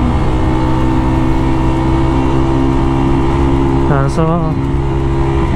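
A Motorstar Cafe 150 motorcycle engine revving hard at high RPM, a loud, steady, close buzzing drone held throughout, with someone briefly talking over it.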